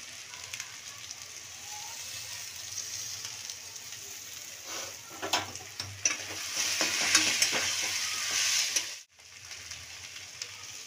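Potatoes and chillies frying in a pan with spiced masala, a steady close sizzle broken by scraping stirring strokes that grow louder midway, then a brief pause before the sizzling resumes.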